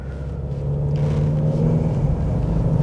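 A 2021 Genesis G70 2.0T Htrac sedan engine hums steadily while driving: a close, continuous low drone that grows slightly fuller after the first second and holds even throughout.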